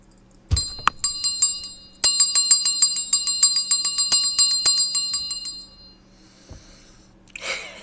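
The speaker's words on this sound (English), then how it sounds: "I like that bell." A small bell rings out sharply, struck once, then again, before a quick run of rapid repeated rings that tapers off and leaves faint room sound, followed by a brief rustle.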